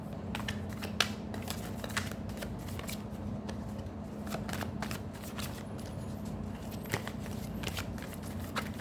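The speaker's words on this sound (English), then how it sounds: "Let's pull out some tarot cards for you" A deck of tarot cards is shuffled repeatedly, giving close riffling and snapping bursts at an uneven rhythm over a low steady hum. The shuffling continues without speech.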